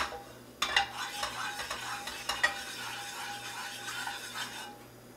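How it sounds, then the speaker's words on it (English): Yellow curry paste crackles and sizzles in hot oil in a pan while a utensil scrapes and clinks against the metal, close and fairly quiet. "Heat up that oil so it can sizzle the curry paste"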